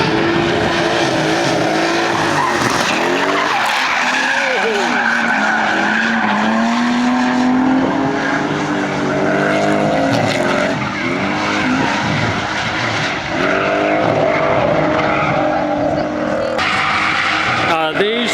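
Straight-six and V8 performance cars drifting at a drag strip car show, loud engines revving and tires squealing in long wavering screeches close by, with crowd noise and voices mixed in.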